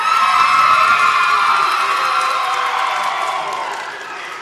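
A crowd screams and shouts at full volume in a screaming contest, a dense wall of high-pitched voices that slowly fades toward the end.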